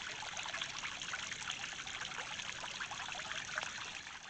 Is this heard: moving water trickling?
yes